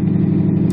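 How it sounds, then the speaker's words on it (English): A 1977 Chevrolet Monte Carlo with an automatic transmission runs with a loud, steady, rough low engine rumble, close up, as the engine struggles and threatens to stall when revved. "if I wanted to show off and like rev my engine, my car would straight up stall on me"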